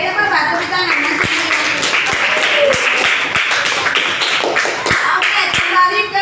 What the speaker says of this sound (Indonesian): dapat tepuk tangan